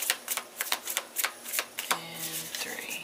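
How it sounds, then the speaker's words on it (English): A deck of tarot cards is shuffled in quick rustling bursts, card edges riffling and flapping in a loose rhythm, fairly close and moderately loud, with a faint voice murmuring underneath. "Do 3 shuffles."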